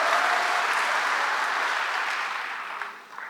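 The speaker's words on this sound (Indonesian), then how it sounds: "Yang mau menang total berikan tepuk tangan bagi Allah kita." A church congregation applauds in a dense, even wash of clapping that holds steady and then starts to fade toward the end.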